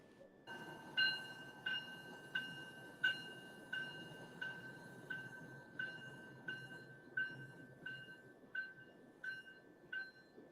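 A train pulls out of Grafton, with a bell ringing in a steady repeating rhythm, loud at first and slowly fading over a low rumble of rolling cars.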